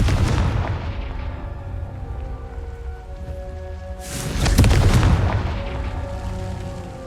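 Hogwarts Legacy's Confringo fire spell erupting in a loud, close explosive burst over a steady rumbling game background, with no voices.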